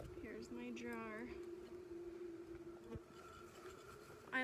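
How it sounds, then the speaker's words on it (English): Honey bees trapped in a jar being shaken during a sugar roll mite test give off a steady buzzing drone, with some talk and faint background noise mixed in. "I'm shaking a jar full of bees and they don't like it"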